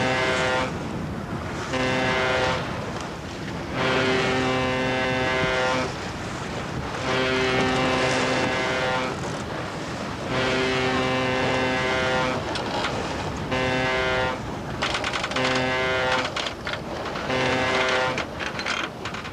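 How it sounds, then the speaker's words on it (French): Deep foghorn blasts sound repeatedly, some long and some short, loud and tonal over a steady rush of wind and sea. "vous pouvez envoyer avec une corne de brume soit un SOS,"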